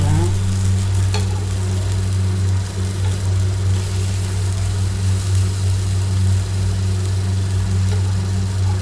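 Tiffin batter fries in oil in a pan with a loud, steady sizzle close by, and faint scraping and clicks come as pieces are turned over. There is no talking.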